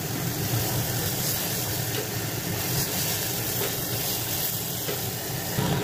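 Water poured into hot oil in a pressure cooker sets off a loud, steady sizzling hiss that fills the whole stretch without letting up.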